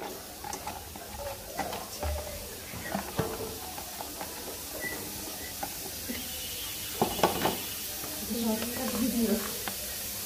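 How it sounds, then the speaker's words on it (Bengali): Onions fry in hot oil in a home kitchen pan, a faint steady sizzle with occasional clinks and stirring, while someone talks over it. "দিয়ে পেঁয়াজটা ভালো করে ভাজবো"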